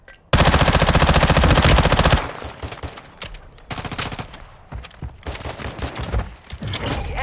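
Sustained automatic gunfire in the Call of Duty video game: a loud, dense burst of rapid fire lasting about two seconds, then further shorter bursts and scattered shots with game effects, and no talk.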